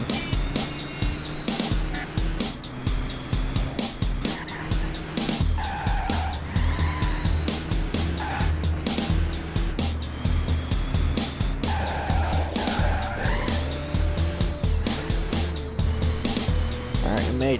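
A van driven hard in the video game Driver: Syndicate, its engine droning while tires squeal and skid repeatedly through turns, with talk running over much of it.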